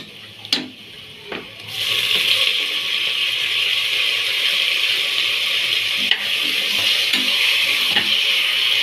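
Tomatoes tipped into a pan of browned frying onion for egg rice: two light knocks, then a loud steady sizzle swells up and continues, with occasional clinks of stirring.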